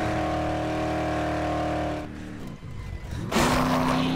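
Car engine droning steadily while driving in the video game Dead Island, then dipping and rising again into a higher revving tone, loud and close with no talk.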